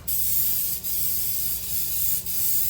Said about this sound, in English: I'm going to spray it really good with my non-stick spray